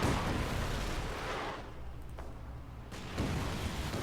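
Artillery barrage in the video game Company of Heroes 2: loud, continuous rumbling booms that ease off in the middle with a low drone, then surge back toward the end.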